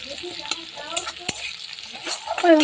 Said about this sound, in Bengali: তেলের মধ্যে একটু রসুন আর একটু পেঁয়াজ ফোড়ন দিয়ে আমি শাক ভাজাটা বসিয়ে দিলাম